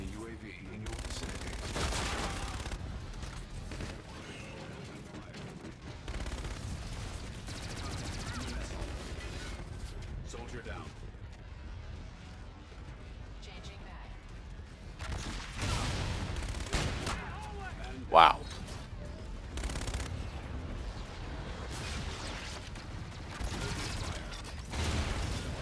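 Bursts of video game shooter gunfire recur through the scene, with clustered shots and mechanical clatter, separated by quieter stretches that carry occasional talk.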